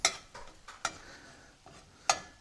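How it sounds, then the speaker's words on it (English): Browning sausage in a pan is chopped with a utensil, giving a few sharp taps and scrapes against the pan over a faint sizzle. "Just kind of chopping these up a little bit."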